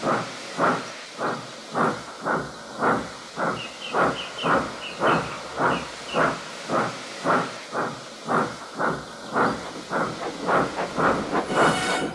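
A train rolls past with a steady, rhythmic clickety-clack of wheels over rail joints and a hissing rumble, continuing throughout without any voices.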